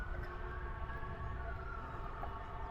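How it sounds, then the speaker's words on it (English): An ambulance siren wails somewhere in the distance in Washington, D.C., as the vehicle heads toward GW. Its steady tone sits low and faint under a constant wash of city background noise, with no voices. "an ambulance on its way to GW."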